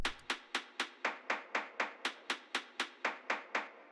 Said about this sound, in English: This is really a closed hat.